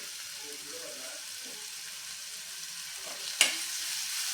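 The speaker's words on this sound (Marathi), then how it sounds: "बारीक चिरलेला टोमॅटो घालायचा आहे टोमॅटो सुद्धा छानपैकी आपल्याला परतून घ्यायचा आहे मऊ होईपर्यंत" Finely chopped tomato sautéing in a pan for dal palak tadka, a faint continuous sizzle hiss with one sharp clink of a utensil near the end.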